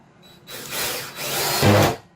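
A power drill whirs in short bursts while driving extra screws into a wooden radio desk to reinforce it, with close, steady motor whine and a rise in load near the end.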